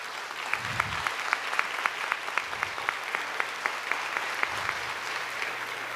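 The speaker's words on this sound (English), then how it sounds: "Please give them a round of applause." Sustained applause for graduating students at a high school summer promotion ceremony: many hands clapping in an even, rhythmic patter, with a few dull low thumps mixed in and no one speaking.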